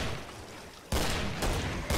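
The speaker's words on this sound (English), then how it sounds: "I think you just got a long distance headshot" Gunfire in the game Killing Floor, with three loud, close, sharp shots spaced roughly half a second apart over constant noisy background, with no voices.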